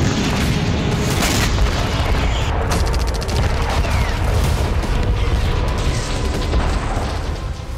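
Ukrainian naval drones strike a Russian Black Sea Fleet ship at Novorossiysk, producing a loud, sustained roar of explosions with repeated booming bursts and crackling blasts throughout.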